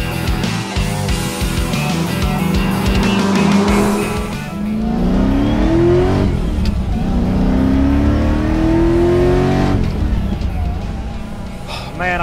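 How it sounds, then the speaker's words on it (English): A supercharged Ford Mustang GT500 with a forged small-block V8 and manual gearbox revs hard, rising and falling in loud repeated pulls with a whining pitch climbing through each rev, close and continuous throughout. "That forged small block V8, that supercharger whine, manual, you've got to love that stick shift"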